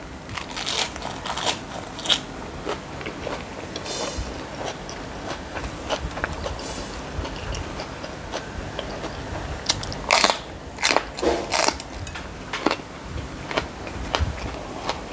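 Fresh raw vegetables and mango leaves are chewed up close, giving irregular crisp crunches and bites that come in bursts with no talking.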